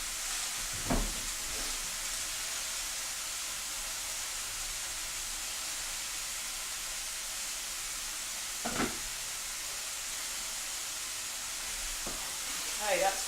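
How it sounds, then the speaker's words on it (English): Steady, even sizzling of food frying in a pan, a soft continuous hiss with a few faint clicks and knocks. "just got the sizzle on"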